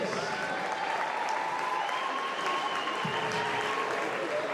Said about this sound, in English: let's give a big round of applause to our entire class of